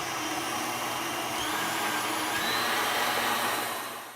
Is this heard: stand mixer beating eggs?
yes